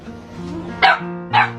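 Dogs battling a cobra in Cambodia give two sharp, loud barks about half a second apart, over a low droning background.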